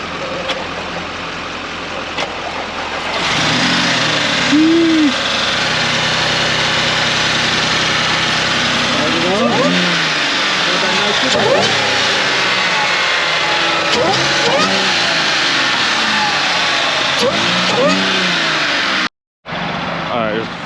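A used track car engine cranks and fires, then settles into a steady loud idle with several revs rising and falling, before cutting briefly near the end; people talk nearby.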